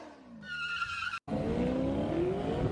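A race car in a video game skids and spins out, with tire squeal and a whining, shifting engine tone, cut by a short dropout and then a long, steady screech, loud and close.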